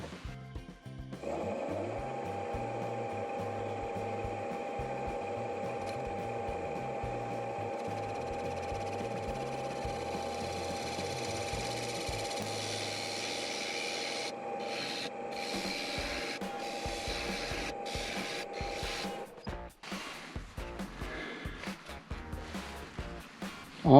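Gouge with a freshly honed edge cutting a maple candy dish on a woodturning lathe: a steady grinding, rubbing drone for most of the span, then breaking into uneven scraping bursts near a knot before ending.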